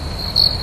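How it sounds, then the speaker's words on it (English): Crickets chirping as a steady, high-pitched insect trill that holds alone through a short stretch of quiet, swelling slightly louder for a moment midway. "Cricket, cricket."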